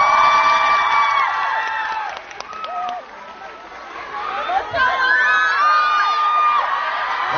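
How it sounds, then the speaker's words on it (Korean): Crowd at a birthday fan event cheers, whoops and shouts for b-boy dancers, with excited voices and scattered high-pitched screams that rise and fall. "고생해주신 우리 저희 비보이 여러분들께 박수 한번 부탁드립니다."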